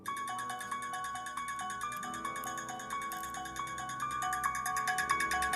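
A phone ringtone plays the Halloween (1978) theme piano music: a fast, steady run of repeating high piano notes over a continuous low drone, even and unbroken throughout.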